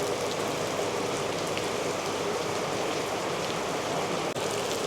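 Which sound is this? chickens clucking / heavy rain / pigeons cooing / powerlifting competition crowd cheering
heavy rain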